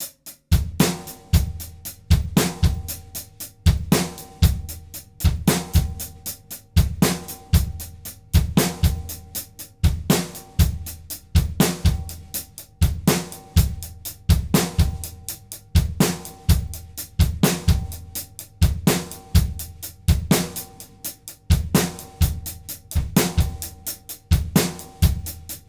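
A drum set plays a steady triplet-feel groove: crisp cymbal and snare strokes in a repeating pattern, with bass drum kicks on the triplet notes, loud and close, looping without pause.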